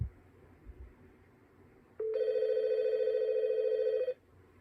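A desk telephone on an inter-office call rings once in a single sustained electronic tone lasting about two seconds, close and clear after a quiet lead-in.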